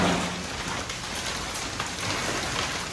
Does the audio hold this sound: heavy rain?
yes